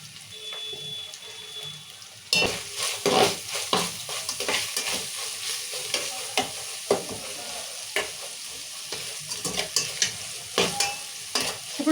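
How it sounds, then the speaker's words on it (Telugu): Ginger and garlic tempering for bagara rice frying in hot oil, with a quiet opening that breaks into loud crackling sizzle and repeated sharp scrapes of stirring close by, continuing steadily to the end. "ఇప్పుడు అల్లం వెల్లిగడ్డ కూడా మంచిగా నూనెలో వేయింది."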